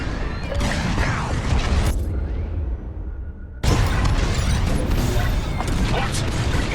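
Bombs exploding during a bombing run in Star Wars Squadrons, heavy booming blasts and crashing debris close and loud, with a brief drop and then a renewed barrage; voices are heard over it.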